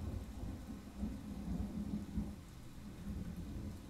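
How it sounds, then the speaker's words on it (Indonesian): Steady rain with low rolling thunder rumbling throughout, a continuous stormy wash with no voices. "Wah hujan anjir."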